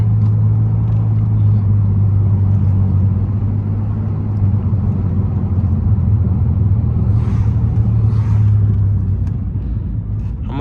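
Pontiac Grand Prix GT with its muffler deleted, a loud steady low exhaust drone heard from inside while driving, with a slight swell in pitch as it downshifts.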